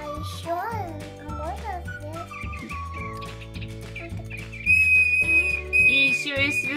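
A small whistle on a Little Live Pets butterfly toy gives a shrill sustained tone near the end, layered over busy electronic toy music and a voice.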